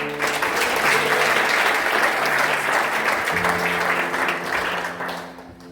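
A church congregation claps steadily for several seconds, a dense wash of applause over a soft held keyboard tone, tapering slightly at the end.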